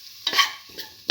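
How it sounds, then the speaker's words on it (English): Spoon stirring diced potatoes with cinnamon powder in a frying pan, giving two or three brief scraping strokes over a faint sizzle. "Thoroughly mix the cinnamon powder with the potatoes"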